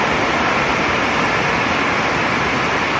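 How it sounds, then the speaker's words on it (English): Heavy rain pours down outdoors, a loud, dense and unbroken hiss of falling water that fills the whole moment without pause or voices. "It's pouring now, raining out here."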